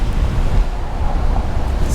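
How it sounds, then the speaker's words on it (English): Steady ocean-side wind at Palm Beach, Florida rushes and buffets the microphone, a continuous broadband roar with no other sounds standing out. "It's a little windy."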